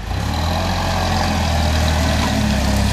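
A propane-powered 2004 Toyota 7FGCU20 forklift with a 4,000-pound capacity runs at a steady idle, its low engine drone and rumble holding constant and close with no voices over it.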